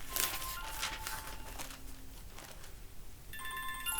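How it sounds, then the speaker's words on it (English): A phone ringtone plays as a repeating electronic melody, moderately loud and fairly close, with a brighter tonal pattern near the end. "a phone that's ringing"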